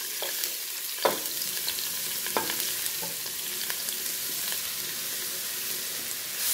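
Chopped onion, ginger, garlic and green chili sauté in a pan with a steady, close sizzle. A few soft spatula scrapes and taps sound as the mixture is stirred.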